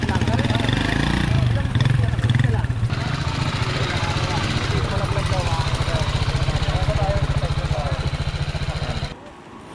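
A BMW G310 GS motorcycle idles loudly nearby with a steady, throbbing single-cylinder putter as it is loaded onto a bamboo raft at a river crossing in Daraitan. People talk over the engine before it cuts off at the end.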